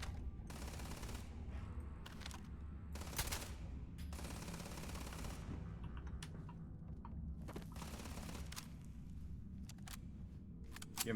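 Gunfire in the video game Starfield during a gunboat fight comes as bursts of rapid shots and sharp single cracks, loud and fairly close, with short gaps between volleys and no talking.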